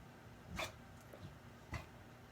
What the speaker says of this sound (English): so Magnus, the smarter than we thought dog, is trying to co-host to get a yummy.